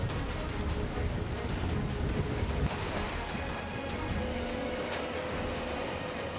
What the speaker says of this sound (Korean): 밤이 되자 그 물결은 파도로 바뀌었습니다.